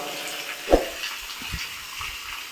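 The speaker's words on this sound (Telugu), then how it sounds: "సో థర్డ్ బావిలకి ఫోర్త్ బావి నుంచి వాటర్ పడుతున్నాయి" Water pours from the fourth well into the third at the Seven Wells waterfalls in Gangaram, Telangana, a steady close broadband rush with one brief splash or thump early on and no voices.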